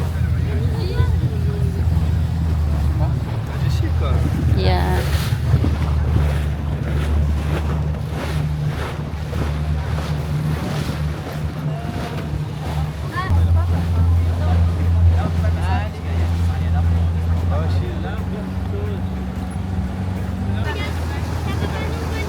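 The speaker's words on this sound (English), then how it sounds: "So we're taking this boat to get to those boats." Boat ride on open water off Mauritius, a steady low engine drone with wind and wave wash running throughout, close and continuous, with people talking briefly over it.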